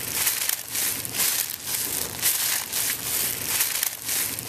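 Continuous granular crunching and crinkling, like a bag of small beads squeezed in rhythmic pulses, imitating footsteps on gravel.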